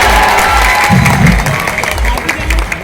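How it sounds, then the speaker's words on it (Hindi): Applause for a newly appointed BPSC officer at a public gathering during the Bihar Saras Mela, a steady crowd clapping that swells briefly with some cheering over a low background hum. "तो मैं चाहूंगी कि इनके लिए जोरदार तालियां, सम्मान वाली तालियां"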